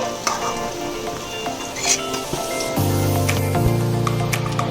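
Onion fritters (peyaji) frying in hot oil, a constant close sizzle with bright crackles that swells louder and denser partway through as more frying sets in.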